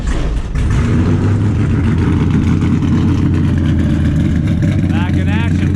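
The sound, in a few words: modified Dale truck engine running and revving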